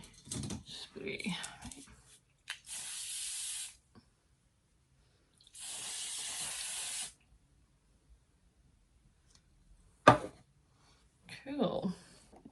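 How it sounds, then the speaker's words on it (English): Two long, steady bursts of aerosol hairspray hiss close by, separated by a pause, with talking before and after and a sharp knock near the end. "I need hairspray."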